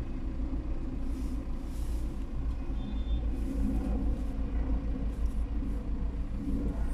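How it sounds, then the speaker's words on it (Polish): Steady traffic of many cars driving along a city street in Wrocław, a continuous low rumble of passing engines and tyres at moderate distance, with a brief higher whine midway and no voices. "W kierunku Zwycięskiej od Krzyckiej jedzie sporo samochodów."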